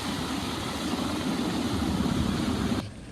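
An Air Force helicopter engine drones steadily in a snowy mountain rescue on Yushan, a loud continuous low rumble that cuts off abruptly near the end.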